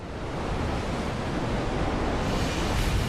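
Choppy sea waves under overcast skies, a steady loud roar of surf and wind noise filling the whole stretch, close and continuous with no voices.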